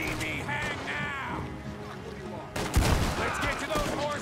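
A loud shotgun blast in Red Dead Redemption 2 booms out midway, over a steady background of game ambience and brief voices.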